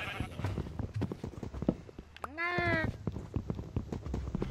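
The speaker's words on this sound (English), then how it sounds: "I just heard a cow" A Minecraft cow lets out one clear, drawn-out moo, a short harmonic bellow rising then holding, surrounded by close talking and tapping.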